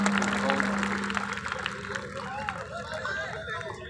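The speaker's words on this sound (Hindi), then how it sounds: "आपको तालियां जोरदार बजानी चाहिए इस लम्हे को यादगार बनाने के लिए।" At a large Urdu poetry mushaira in Mumbra, Mumbai, the audience claps in a dense, moderately loud patter that slowly thins out, mixed with crowd murmur and a voice speaking.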